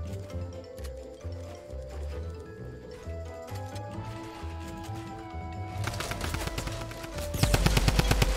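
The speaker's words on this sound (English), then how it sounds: "Oh, he's getting shot." Gunfire in the Fortnite Battle Royale video game, a rapid burst of loud automatic shots near the end over game sounds and music.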